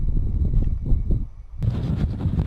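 Gusty wind buffeting the microphone at a wild camp by Willow Bog, low rumbling surges that rise and fall, then a sudden stronger blast of broadband rushing near the end.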